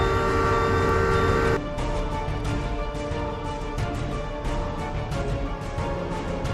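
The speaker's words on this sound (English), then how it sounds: "ignoring the sound of an oncoming train" A high-speed train approaches at around 300 km/h, its loud sustained horn blaring at first, then giving way to a heavy continuous rumble of wheels and rail cars rushing past.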